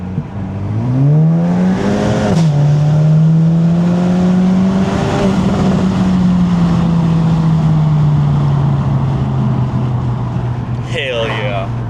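A Volkswagen GTI running on ethanol accelerates hard, its engine note climbing in a steady loud drone with a brief shift, while someone talks excitedly over the noise throughout.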